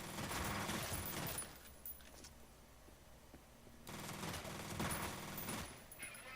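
Rapid bursts of automatic gunfire in the shooter game F.E.A.R., one long volley at the start and another heavy burst a few seconds later, with quieter game ambience between them.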